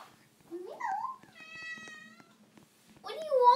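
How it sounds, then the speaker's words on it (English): A cat meows a few times close by, with rising and falling cries, and quiet speech murmurs briefly between the calls. "that's my cat in the background."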